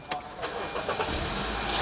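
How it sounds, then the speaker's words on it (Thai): A petrol car engine cranks briefly, then catches and settles into a steady, fairly loud rumble close by. "เดี๋ยวเรามาสตาร์ทให้ชมกันเลย"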